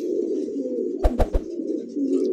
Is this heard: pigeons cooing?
yes